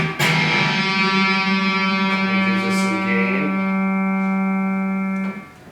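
A 1989 Ibanez RG550 electric guitar plays through distortion on an amplifier's second channel. A single thick, buzzing chord is struck and left to ring loud and sustained for about five seconds, then cut off, with no talking.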